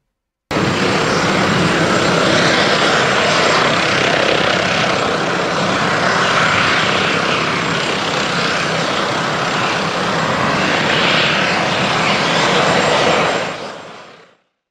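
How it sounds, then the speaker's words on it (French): A loud, steady engine roar with rotor whine as a civil protection helicopter powers up for takeoff close by, holding constant before cutting off abruptly. "la vidéo du take-off, en gros le décollage de l'hélicoptère de la sécurité civile."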